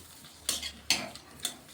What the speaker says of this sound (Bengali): এটা ভালোভাবে ভেজে নিচ্ছি লঙ্কাটা